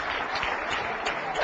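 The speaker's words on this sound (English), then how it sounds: "Let's have a round of applause for my friend." An audience at an entertaining speaker's talk gives a round of applause, a thick, continuous wash of clapping at even loudness for the whole brief moment.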